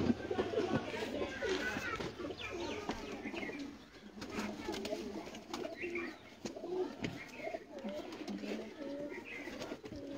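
Teddy pigeons coo in soft, repeated throaty phrases through a caged bird-keeping setting, several birds overlapping at close range with brief quiet gaps, and faint chirps mixed in.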